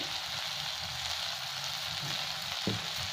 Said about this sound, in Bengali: এটাও ভালো করে মশলার সাথে ভেজে নেবো।